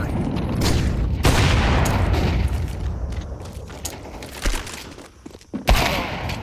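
Rapid SMG gunfire and busy in-game action from a Counter-Strike 2 collegiate match, a dense, continuous wash of shots and mechanical clatter with sharper bursts near the end.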